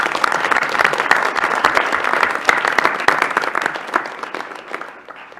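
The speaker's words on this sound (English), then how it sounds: "let's offer Rebecca a round of applause for her presentation." A room of people applauds after a presentation at a university board of regents meeting, with dense, close clapping that stays steady and then tapers off near the end.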